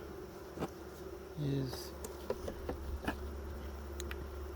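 Honeybees buzz faintly around a hive during an inspection, with brief louder passes up close, mixed with soft handling clicks of frames and a single spoken word.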